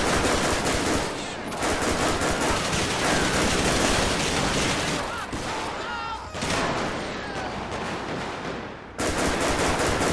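Heavy, sustained gunfire in GTA 5 with the LSPDFR police mod during a gang unit patrol: loud, dense automatic bursts pour out almost continuously, broken by brief lulls, with no talking over them.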